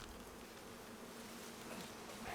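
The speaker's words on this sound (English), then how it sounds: "I hate those bees." Bees buzzing: a faint, steady drone that holds evenly throughout, with no talking over it.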